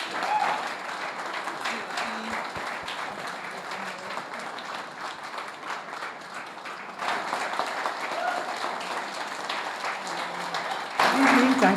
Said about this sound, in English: let's welcome Athi and Muki with a big round of applause